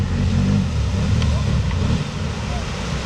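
A Can-Am 1000 side-by-side engine drones loud and close as it pushes through deep river water, a steady low rumble with sloshing under it and a voice talking over part of it.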